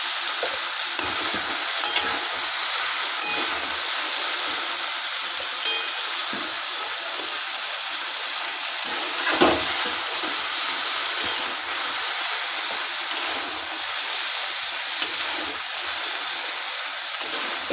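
Okra shallow frying in a pan over fairly high heat for a yogurt okra dish, a steady close sizzle and hiss running throughout with a few faint stirring scrapes, no voices.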